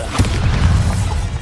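Bombarda blasting spell exploding in Hogwarts Legacy, a single loud close boom with a crashing rumble that lasts the whole short moment, heard alone.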